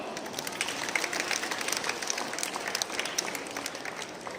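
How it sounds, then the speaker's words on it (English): Audience at a school annual gathering claps steadily in a soft, distant-sounding round of applause, with crisp individual claps standing out from the even crowd noise throughout. "Please have a huge round of applause."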